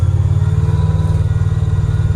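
A shop truck fitted with a new QA1 suspension drives along with a steady low, even engine and road rumble, loud and close to the microphone, and no voices.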